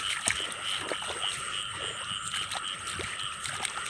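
A steady chorus of frogs croaks across a flooded field while water splashes and sloshes close by in irregular bursts.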